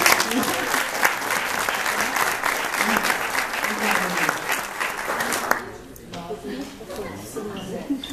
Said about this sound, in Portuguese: palmas para a Ana Paula, gente